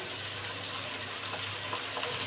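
Mint and coriander leaves fry in a pan for mutton biryani, giving a soft, steady sizzle with faint crackles and a low background hum.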